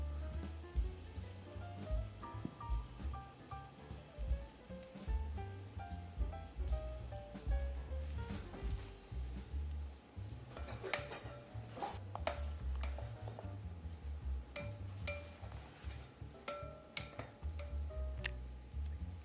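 Rapid, rhythmic clinking of a utensil against a bowl as dry bread dough ingredients (flour, salt, baking powder) are stirred together, close and fairly soft, with no speech.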